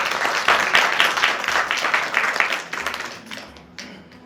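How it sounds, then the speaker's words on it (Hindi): An audience at a Rotary Club speaker meeting in Delhi claps together in a dense burst that gradually fades over a few seconds, with no talking. "कृपया जोरदार तालियों से स्वागत"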